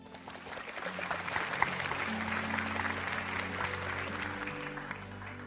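A studio audience applauds as a Fudan University Belt and Road institute vice-dean is welcomed on stage at a televised talk show. The applause is a steady, sustained crowd wash at moderate level, with faint tonal music running beneath it.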